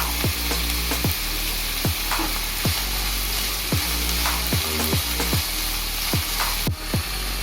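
Finely chopped beans stir-fry in a hot pan for Indian-style pasta. A constant loud sizzle runs under repeated, evenly spaced spatula scrapes.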